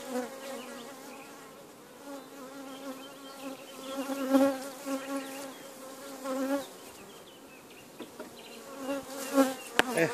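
Honey bees buzz steadily at an open hive during an artificial swarm split, a dense, close hum with shifting layered tones and a few louder swells, no voices.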